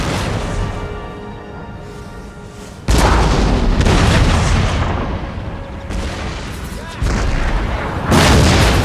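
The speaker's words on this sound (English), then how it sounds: "Here comes another volley of mortars." A volley of mortars firing in the Empire: Total War battle game, with loud booming blasts arriving in several heavy bursts over a rumbling battlefield din.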